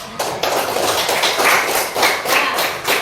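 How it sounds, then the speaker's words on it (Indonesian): Students in a classroom clap for a classmate who answered a question, with a short, moderately loud burst of applause made of uneven, overlapping hand claps. "beri aplaus untuk"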